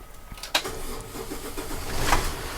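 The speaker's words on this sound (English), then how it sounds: "So we're gonna have to start the truck safely." Truck engine cranking and catching before an air brake test, a sharp start followed by a steady mid-pitched running rumble that swells slightly toward the end.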